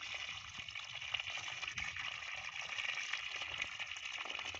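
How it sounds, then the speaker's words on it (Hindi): A 12-volt DC solar irrigation pump running on a 100-watt panel delivers water that gushes and splashes in a steady, faint, continuous flow, with no talking. "तो हम दिखाते हैं कितना पानी दे रहा है।"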